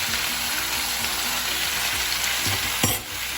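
Mixed vegetables and jackfruit seeds fry steadily in hot oil on a lowered flame, a continuous close sizzle with small stirring scrapes and a brief louder clatter near the end.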